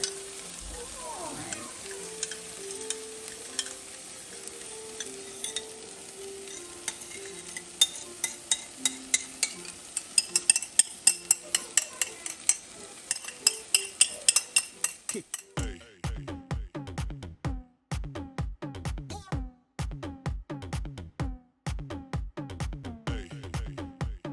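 Sauce of sugar, oyster sauce, cornstarch and ketchup stirred together in a pan, with a steady sizzle under scraping utensil strokes that quicken into a run of sharp, rhythmic clinks and taps near the end.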